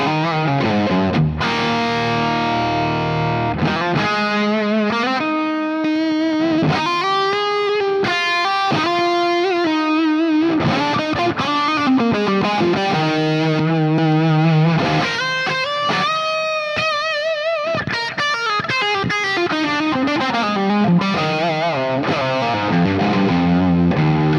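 Electric guitar played through a reverb pedal with pre-delay and the modulation turned all the way up, distorted sustained notes and shifting chords that wash together in a loud, continuous shimmering tail.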